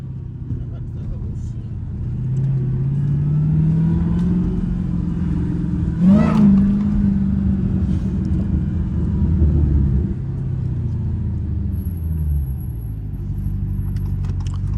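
A Hellcat engine rumbles and revs while driving in snow, with a loud sustained low growl that swells around the middle and again near the end. Voices talk over it.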